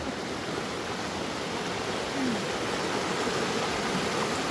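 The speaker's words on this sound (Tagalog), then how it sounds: "Marami pala rito mga mini waterfalls." Small cascades at Big Hill Springs Provincial Park give off a constant, dense rush of flowing water, an even hiss that stays at one level throughout, with no voices.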